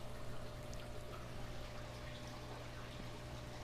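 Water trickles and pours continuously into a DIY sump mounted above a saltwater aquarium in a fish room, a steady broadband splashing wash with a faint low pump hum underneath, with no voices.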